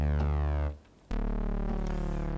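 Logic Pro ES2 "Real Fat" saw synth bass without arpeggiator: a thick, buzzy sustained low note, briefly cut off, then struck again and held, loud and alone.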